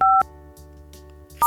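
Two short DTMF keypad tones sound as a number is dialed in the iPhone phone app, separated by a pause with a faint steady hum.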